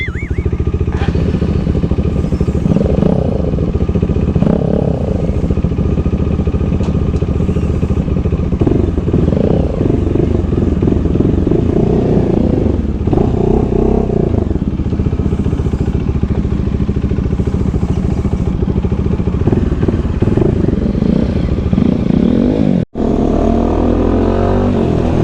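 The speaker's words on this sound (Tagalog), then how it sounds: "Tinitest niya yung motor ko" A Honda NS200 motorcycle engine runs steadily and loudly throughout a buyer's test drive, with a continuous droning rumble and occasional revving swells, close by and dominating the scene, ending with a brief cut near the end.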